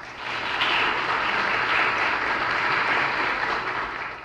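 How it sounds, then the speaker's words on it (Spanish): A large audience gives a loud, sustained round of applause at a lecture event, a thick wash of clapping that swells in and stays steady to the end without talk. "le pido un fuerte aplauso"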